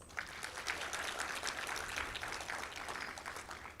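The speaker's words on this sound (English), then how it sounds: "May we give another round of applause?" A round of applause fills a conference hall at a national consultation on adolescent pregnancy, a dense steady wash of many hands clapping at moderate distance for about four seconds with no voices.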